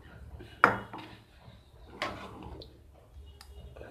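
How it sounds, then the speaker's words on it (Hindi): A spoon stirs vermicelli kheer with crushed cardamom in a cooking pot, giving a few sharp metallic clinks and scrapes at irregular intervals against quiet background. "और मिक्स कर देंगे।"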